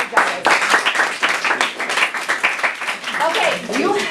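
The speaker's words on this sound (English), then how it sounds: "another round of applause. Good job, guys." Classroom audience clapping after a student presidential primary debate, an uneven patter of hands mixed with chatter and cheering voices.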